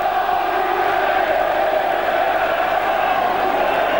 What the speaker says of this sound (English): The Charlton Valley crowd get behind them.